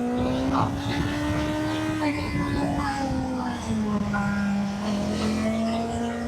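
A car passes on a winding mountain pass in Italy with a steady engine drone whose pitch rises and falls, loud and close, while people talk over it.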